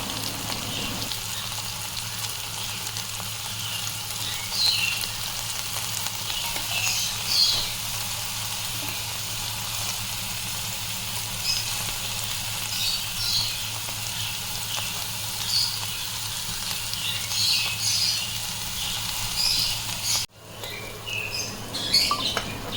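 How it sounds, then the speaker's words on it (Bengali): Mutton kebabs frying lightly over a low flame in a pan, a soft, steady sizzle with faint crackles and pops, quiet and continuous before a brief knock near the end. "হালকা হালকা করে ফ্রাই করে নেব আমি"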